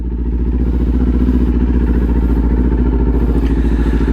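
A Kawasaki Ninja 400 motorcycle fitted with a LeoVince LV-10 exhaust idles close by, giving a loud, steady, low pulsing throb with a rapid even rhythm and no talking.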